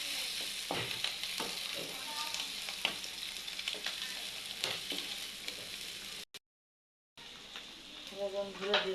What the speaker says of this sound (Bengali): বন্ধুরা দেখুন মাংসটা কষাচ্ছি